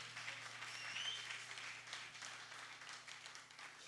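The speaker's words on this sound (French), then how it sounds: "Clap for the Lord." Church congregation clapping for the Lord during a sermon, a dense wash of steady applause from many hands, moderately distant and continuous throughout.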